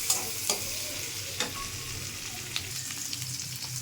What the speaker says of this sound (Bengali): আধা চামচ হলুদ গুঁড়ি দিয়ে এটাকে কিছু সময় ভেজে নিতে হবে।